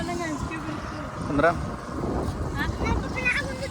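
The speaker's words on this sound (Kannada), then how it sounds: "ನೋಡ್ರಿ ಬೋಟ್ ಹೋಗುತ್ತೆ ನೋಡ್ರಿ" Low, continuous motor drone from a boat passing on the water below, heard beneath close, lively talk from several people outdoors at a temple gathering in North Karnataka.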